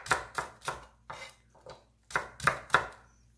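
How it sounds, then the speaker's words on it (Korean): A knife chops celery into thin strips on a cutting board, about eight crisp, close knocks in an uneven rhythm, with short pauses between groups of cuts. "요거는 그냥 채를 썰어 주시면 돼요"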